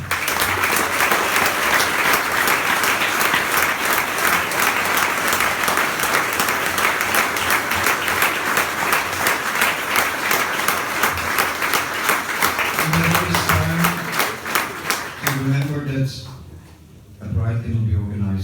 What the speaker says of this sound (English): by asking an applause for him, I'm asking an applause for all the volunteers who are here